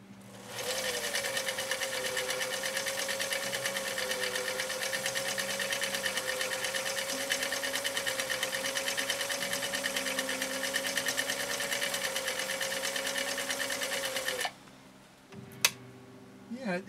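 A 1955 Viking Type 21 sewing machine, 1.5 amp, stitches steadily with a fast, even mechanical whir and clatter for about fourteen seconds before stopping, followed by a few faint clicks.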